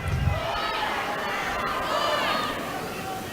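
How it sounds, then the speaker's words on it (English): Tennis crowd at a 2023 Australian Open night match between Novak Djokovic and Alex de Minaur, a steady murmur of spectators swelling with scattered shouts of support for Alex, continuous and fairly loud throughout. "Cries of "Go Alex" from the crowd"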